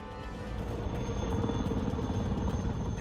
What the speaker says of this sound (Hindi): अपाचे अटैक हेलीकॉप्टरों ने एक साथ मिलकर हमला किया और टारगेट को हिट किया